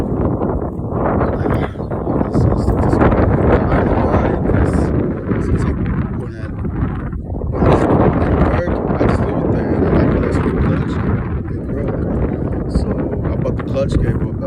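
Wind blowing steadily on a windy day outdoors at home beside a Polaris Outlaw 500 four-wheeler, a loud, continuous rushing roar with gusty swells and microphone buffeting throughout.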